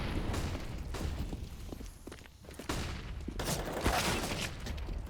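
Rapid gunfire from a Counter-Strike pro esports match, including a Desert Eagle kill, with bursts of shots, grenade-like booms and footsteps mixed into a busy, moderately loud game soundscape.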